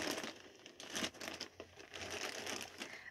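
A plastic Shein mystery bag crinkles and rustles in bursts as it is handled, soft and close with irregular crackly pulses.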